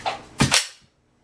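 Left-handed speed reload of a pistol from slide lock: a couple of sharp, close metallic clacks in quick succession, then quiet.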